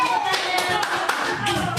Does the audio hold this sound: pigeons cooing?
no